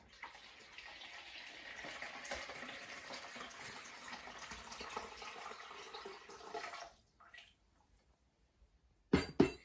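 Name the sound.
lukewarm water poured from kettle into bowl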